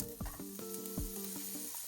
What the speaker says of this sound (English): So when you've added your oil, you want to throw in your onion and garlic.